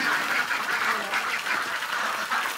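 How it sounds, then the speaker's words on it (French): Ducks quacking steadily on a farm in Thailand, a dense, continuous chorus of many birds close by with no pauses. "c'est pas des moutons, c'est des canards"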